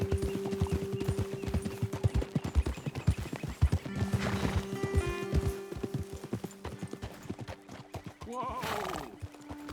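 Steady clip-clop of horse hooves in Red Dead Redemption 2 with a loud whinny near the end, and a short exclaimed word from a man partway through.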